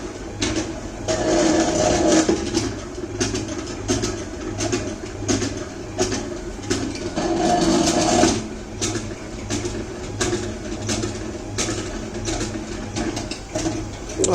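A four-speed sliding mesh manual gearbox mechanism runs steadily, a close, continuous mechanical whir and hum with rhythmic gear rattle that swells and eases over time.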